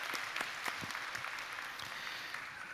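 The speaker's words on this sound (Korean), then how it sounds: "우리 주님께 같이 한번 격려의 박수를 한번 보내드릴까요?" A church congregation claps together in a steady, moderately faint ripple of applause that lasts throughout, with scattered sharper individual claps and no speech.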